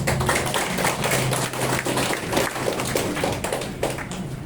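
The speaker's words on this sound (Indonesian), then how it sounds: "Mari kita berikan tepuk tangan kepada mereka." Congregation clapping for newly baptized participants at a church baptism service, a steady wash of many hands beating fairly close for several seconds with no voices on top.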